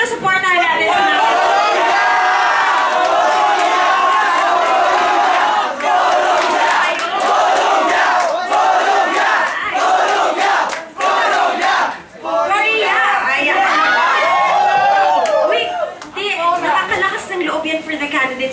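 At the Miss Earth Fahrenheit 2011 pageant, during an eco-friendly costume segment, a large crowd screams and cheers loudly and continuously. The shouting stays close and dense with only brief dips, and voices mix into the roar.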